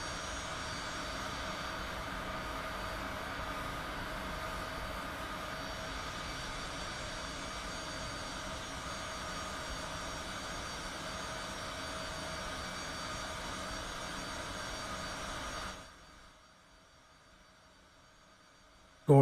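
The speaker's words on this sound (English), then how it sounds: "that is the citation CJ4 departure out of Sedona," A Cessna Citation CJ4 business jet departs Sedona, Arizona, in Microsoft Flight Simulator 2020, its engines giving a steady, loud turbine roar that holds for about fifteen seconds before cutting abruptly to near silence.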